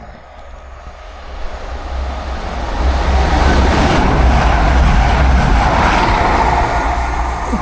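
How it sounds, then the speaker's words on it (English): A CrossCountry train passes through Belper, its rumble swelling from a quieter start into a loud, sustained roar of wheels and carriages that stays close before easing slightly near the end. "Another train coming."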